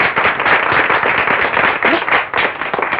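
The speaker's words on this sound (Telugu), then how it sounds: "ఏమిటరా ఈ చప్పట్లు?" Dense, steady clapping from a crowd, loud and continuous for a few seconds, with no voices over it.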